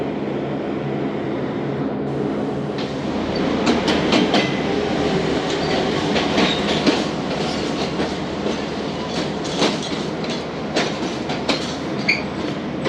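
The Karakoram Express pulls away from the station, a steady close rumble of rolling rail cars with repeated sharp wheel clicks and clacks over the track.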